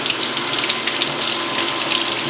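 Hot tap water runs steadily into a sink to loosen a frozen solid block, a continuous close hiss and splash with no talking over it.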